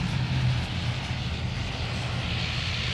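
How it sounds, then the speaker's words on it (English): Singapore Airlines Airbus A350 arriving at Sydney Airport, a steady broadband engine roar with low rumble holding at an even level for the whole stretch, no voices. "The first heavy arrival of the morning, the Singapore 221 A350 service from Singapore"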